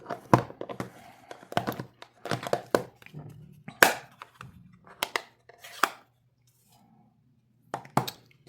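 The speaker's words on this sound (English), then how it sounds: "let's start doing some stamping" Rubber stamp pressed onto paper during card-making with ink pads, a series of short, soft thumps and taps in uneven clusters, close and fairly quiet, with brief pauses between presses.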